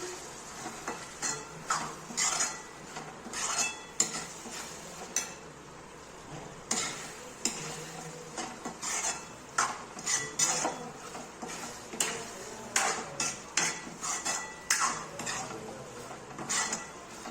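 Paneer bhurji with Kashmiri red chilli and garam masala being stirred in a pan, a run of scraping, clinking spoon strokes against metal in an irregular rhythm over a faint background sizzle, close and moderately loud.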